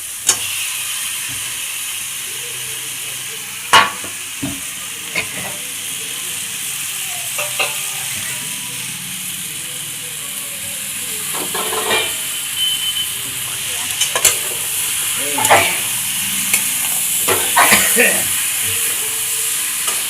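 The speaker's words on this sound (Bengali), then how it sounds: "এবার আলুগুলোকে ঢেলে দিলাম" Potatoes are poured into a pan and fry with a close, continuous sizzle, interrupted by sharp scraping clinks of a spoon stirring against the pan at irregular intervals.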